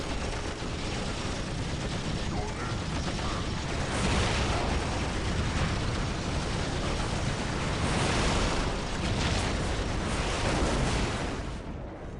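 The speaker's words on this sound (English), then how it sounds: "Another freaking artillery." Artillery explosions in Warhammer 40K: Dawn of War pound continuously, a dense roaring barrage of blasts and rumbling that swells and recedes in waves before dropping off at the end.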